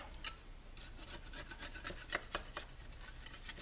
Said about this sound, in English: You just kind of scrape this off.